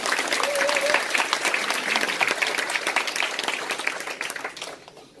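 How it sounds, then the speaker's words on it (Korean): Audience applause at a Korean motivational lecture, a dense steady wash of many hands clapping for about five seconds, fairly loud, then fading out at the end. "네, 박수 한번 주실까요, 그냥?"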